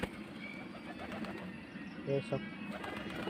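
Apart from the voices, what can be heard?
pigeons cooing during training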